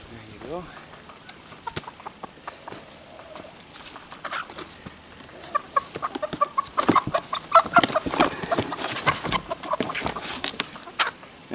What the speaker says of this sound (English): There's a little rooster.